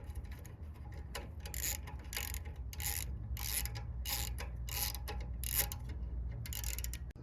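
A 10 mm ratchet tightens the bolt on a carbon fiber exhaust tip fitted to a Toyota RAV4. Rapid ratcheting clicks come in short, regular bursts over a steady low hum, close and fairly quiet.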